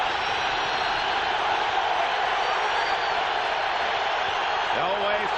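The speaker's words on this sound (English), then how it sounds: "Elway fighting the noise of the crowd" A large stadium crowd roars loudly and continuously at a 1997 Broncos at Steelers football game, a dense wash of noise that holds steady throughout.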